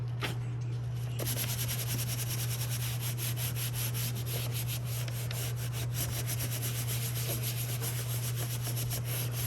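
Steady scratchy rubbing of paper by hand to make a botanical print, a continuous dry swishing texture with no pauses, close and even over a low constant hum.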